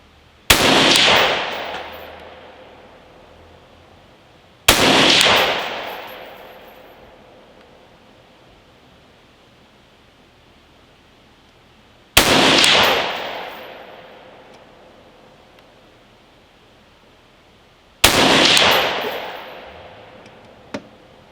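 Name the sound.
rifle gunshots, 5.56 rifle with VG6 Gamma muzzle brake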